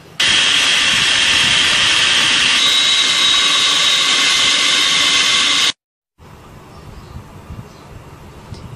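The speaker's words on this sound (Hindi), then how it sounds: "अब इन सारी चीज़ों को चॉपर में डाल के अच्छी तरह से पीस लेंगे।" An electric food chopper grinds minced meat with onion, green coriander, green chili paste and egg for shami kababs: a loud, steady whirring roar for about five and a half seconds, then it cuts off, leaving quieter background noise.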